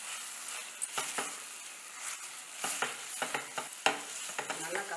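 Ivy gourd kurma being stirred and sautéed in a pan: a spoon scrapes the pan in repeated quick strokes over a soft, continuous sizzle, close and fairly quiet.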